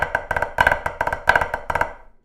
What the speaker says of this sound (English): Float cheese sounds like this.